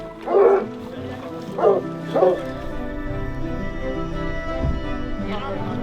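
A few hunting dogs bark in short bursts during a wild boar hunt, three sharp yelps near the start, over a steady outdoor rumble.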